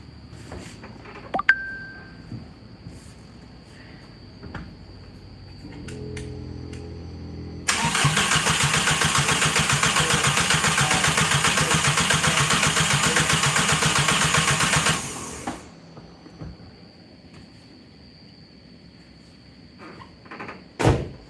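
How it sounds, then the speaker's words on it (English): Car engine in a home garage cranking again and catching, a loud steady roar that runs for several seconds before cutting off, with quieter clanks and shop noise around it and no talk. "I'm gonna crank it again."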